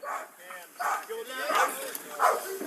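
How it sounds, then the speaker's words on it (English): A police dog barks and yips during a foot chase, several sharp barks in irregular bursts, close by and mixed with shouting voices. "you're gonna get bit by a dog, dude"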